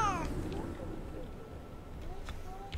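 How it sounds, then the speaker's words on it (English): Cat meows in the horror video game Five Nights with Bunny, a few faint rising cries over a murky game background, with a voice talking over part of it. "Why do I hear a cat?"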